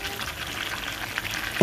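Sesame oil sizzles in a pan while pork adobo is being cooked, a steady close hiss of frying with a brief clatter at the very end.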